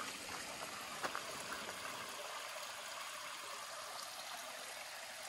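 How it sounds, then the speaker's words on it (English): A small mountain stream trickles and flows steadily beside a trail rest spot in Shenandoah National Park, a soft continuous wash of water heard alone and fairly close. "And then this water sort of flowing down right in here."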